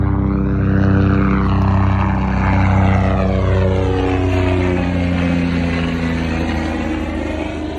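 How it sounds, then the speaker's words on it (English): A helicopter flies overhead, its loud, steady engine and rotor drone close and rumbling. The pitch slowly shifts as it passes, with no speech. "We got a helicopter flying over."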